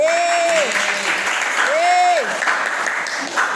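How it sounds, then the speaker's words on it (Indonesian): Students in a university Pancasila class clap for a classmate's answer, a loud, dense round of applause filling the room. Voices call out over the clapping before it thins out near the end. "Kita tepuk tangan buat Kak Anies."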